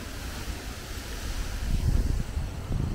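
Typhoon Lupit wind in Japan roars in gusty, buffeting surges with a rushing hiss like rain or surf, loud and close, swelling stronger in the second half.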